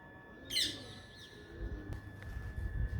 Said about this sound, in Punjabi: ਛੋਟੀ ਜੀ ਚਿੜੀ ਹੈ ਇਹ